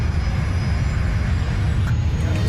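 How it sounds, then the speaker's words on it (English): A Boeing 747 jet engine roars steadily, a loud, sustained broadband rumble with a constant whine above it, filling the whole moment without any voices. "the 4th engine roars back to life"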